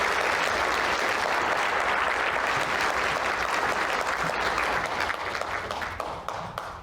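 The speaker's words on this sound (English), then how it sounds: "I'd like to ask you to give a warm round of applause and introduce Nicole." A lecture audience gives a steady burst of applause to welcome a speaker before a talk on quantum physics. The clapping is dense and sustained, then fades at the end.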